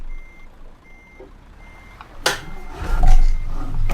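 A video game vehicle backing up, its reversing beeper repeating steady evenly spaced tones, followed by a loud engine roar and rumble as it drives off.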